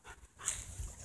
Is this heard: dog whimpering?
yes